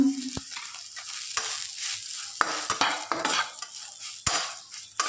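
Soybean chunks fry in oil as a utensil stirs them, a steady sizzle broken by several sharp scraping knocks against the pan, close and moderately loud, with no voices.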